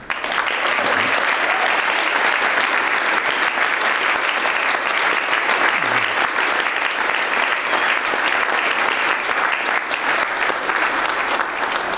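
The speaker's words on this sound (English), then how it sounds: "So I think it's time to give them another big round of applause" A large audience at an Open University degree ceremony in Dublin gives graduates a long, sustained round of applause, dense and steady from start to finish.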